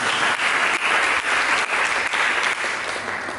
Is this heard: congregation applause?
yes